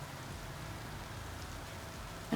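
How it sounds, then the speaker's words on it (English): Steady rain falls outside, a soft continuous hiss of drops on surfaces that stays even throughout with no talking over it. "You guys hear the rain?"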